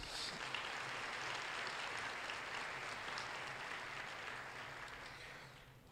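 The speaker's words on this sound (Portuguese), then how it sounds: "Você pode aplaudir o Senhor Jesus?" A church congregation applauds steadily for several seconds, a dense wash of clapping that fades slightly toward the end.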